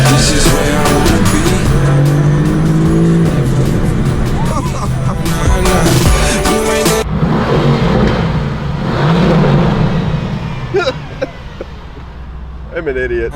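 A Mercedes-AMG supercar engine revs and roars loudly while driving, with rising and falling pitch through gear changes, then drops to a quieter cruise with intermittent clatter and a person talking.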